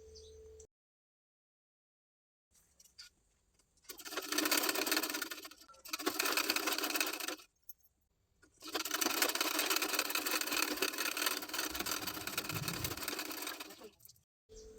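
A sewing machine stitches a sleeve hem folded one inch, running loud and close in two short bursts and then one long steady run, with brief pauses between.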